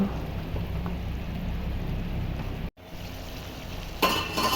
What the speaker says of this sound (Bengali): এখন দেব ভেজে রাখা ভেন্ডি, নেড়ে চেড়ে মিশিয়ে